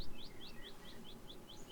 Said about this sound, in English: Hearing some birds in the background there.